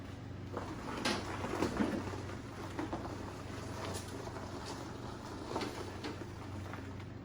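The engine of a TROG build vehicle idles as it warms up, a low, steady rumble heard faintly at a distance, with a few scattered knocks and clunks.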